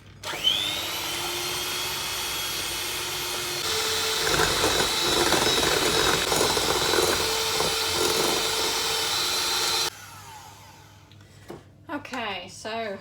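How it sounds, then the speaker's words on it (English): An electric hand mixer beats a honey and lemon soufflé mixture with a steady, close whine and rattling as the beaters work, running for about ten seconds before stopping, followed by talking. "we're going to beat these now with a hand mixer"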